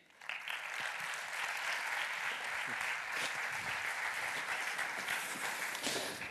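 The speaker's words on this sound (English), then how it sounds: "So please, warm round of applause for Dídac Lee." A crowd at the Bizbarcelona 2012 business event gives a warm round of applause for Dídac Lee: dense, sustained clapping that stays full and even throughout, with no talk over it.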